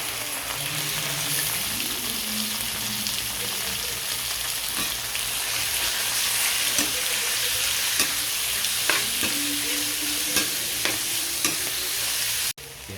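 Pork sizzles steadily in a hot pan, sautéed as the start of adobong sitaw, with a constant frying hiss and occasional clicks and stirring scrapes throughout.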